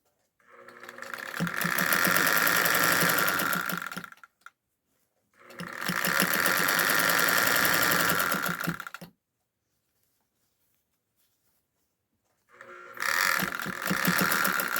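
A sewing machine stitches a seam with mustard-coloured thread in three loud, close bursts of rapid whirring and clatter, each lasting a few seconds and separated by near-silent pauses.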